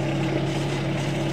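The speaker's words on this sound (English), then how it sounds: "Trying to keep that engine down so you can hear me." A boat engine idles close by in a steady, even drone with a low hum and no change in pitch across the whole stretch.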